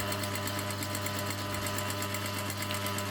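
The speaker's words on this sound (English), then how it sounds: "Look at my industrial machine. This one should sew through anything." An industrial sewing machine stitching through several layers of clothing fabric, a fast, steady, close mechanical hum with rapid regular needle ticking throughout.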